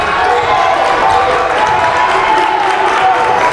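A high school basketball crowd in a gym cheers and roars continuously in a loud, dense wash of voices, with an announcer talking over it.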